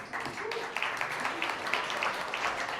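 Modest audience applause at a standup comedy show at the Milk Parlor, a thin, steady patter of clapping from a small crowd with some chatter mixed in.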